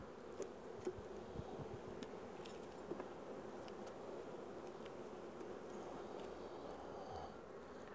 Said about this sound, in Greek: Έτσι η μέλισσα. Την έχει στα πόδια της.